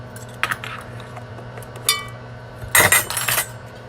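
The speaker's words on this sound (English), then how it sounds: "I'm gonna stir that up" Ingredients for an eggnog cheesecake, with nutmeg among them, stirred in a bowl: a few light clinks of utensil on dish, then a louder burst of scraping and clatter near the end, close by with no talking.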